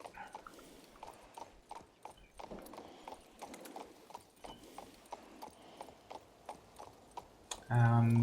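Horse hooves clip-clop steadily in the video game King's Bounty 2, a rhythmic trot close by with faint background sounds, ending in a sudden louder burst.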